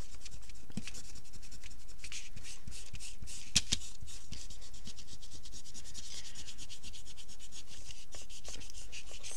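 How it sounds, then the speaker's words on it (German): An eraser rubs pencil marks off a handmade tissue-box craft, a steady close scratchy rubbing that runs throughout with one brief sharper tick partway through; no one speaks. "Einfach das Überschüssige vom Bleistift weg."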